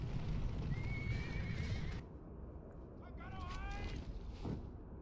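Horses neigh and hooves clatter in Battle for Middle-earth 2, a cavalry charge rumbling under a spoken command, with sharp whinnies rising clearly above the galloping.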